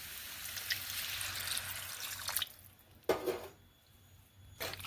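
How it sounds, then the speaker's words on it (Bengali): Water is poured into a pot of winter vegetable curry and stirred in, giving a steady wash of splashing, then a few soft wet scraping and squishing strokes. "এইবার এখানে আমি জল অ্যাড করছি"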